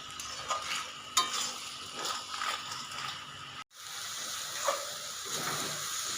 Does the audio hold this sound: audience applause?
no